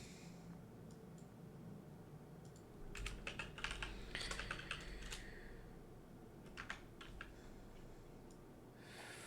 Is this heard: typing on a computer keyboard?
yes